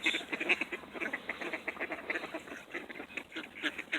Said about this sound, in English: Some undisclosed ducks quacking.